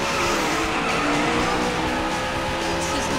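A car drifts through a corner in the racing game Daytona USA, its tires squealing and skidding continuously over a dense, loud engine roar with no pause.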